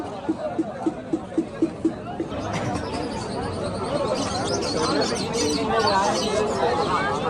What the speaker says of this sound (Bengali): এখানে বিভিন্ন ধরনের পাখি আছে